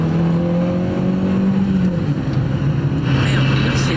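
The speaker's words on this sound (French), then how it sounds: "il accélère comme une brute le mec" A car accelerates hard during a chase, its engine droning loud and steady with a sustained rising then levelling pitch, voices faintly beneath.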